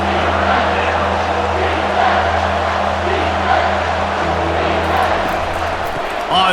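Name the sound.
stadium crowd cheering at college football game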